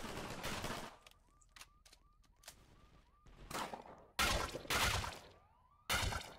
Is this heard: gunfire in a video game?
yes